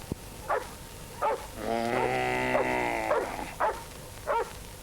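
A dog barks in short sharp bursts spaced about a second apart, with a sustained bleating, harmonic animal call in the middle. The scene sounds like an outdoor livestock setting, and the barks are moderately close.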